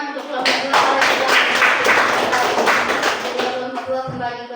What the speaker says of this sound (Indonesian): Kasih tepuk tangan untuk kelompok 2 kalau sudah.